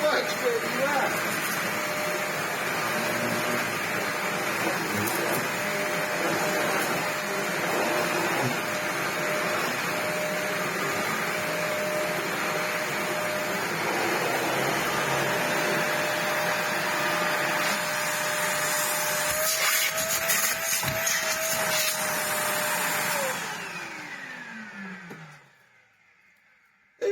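A Sebo Dart 1 commercial upright vacuum cleaner in used, pre-refurbishment condition runs with a loud, steady motor roar and airflow rush, then is switched off and winds down toward the end.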